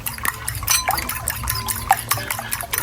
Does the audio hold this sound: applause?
no